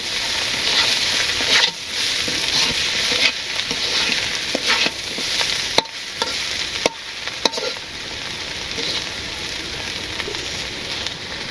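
Cabbage sizzles loudly while frying in a pan in a Bangladeshi village kitchen, with a steady hiss broken by scraping stirs and a few sharp clinks of the utensil against the pan.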